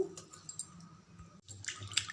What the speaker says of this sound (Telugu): మళ్ళీ కొన్ని వాటర్ పోసి మరొకసారి కడుక్కోవాలి